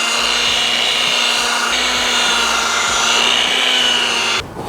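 Power polisher with a foam pad buffing the paint of a 1969 Corvette, a loud, steady motor whine with a low droning hum, close and continuous, cutting off briefly near the end.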